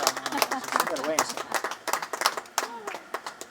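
Church audience clapping in scattered, uneven bursts beneath a preacher's steady speech, the applause thin and partly buried by the talking.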